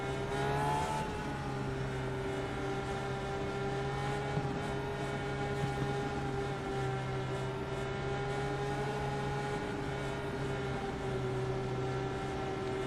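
Race car engine in a NASCAR and IndyCar racing video game at Pocono, with a loud, steady droning whine held at constant pitch throughout and a few stronger harmonics layered on top.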